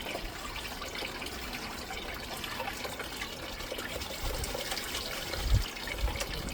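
Gold-bearing sluice tailings panned in water, a continuous soft sloshing and trickling close by with a few louder swishes and splashes toward the end.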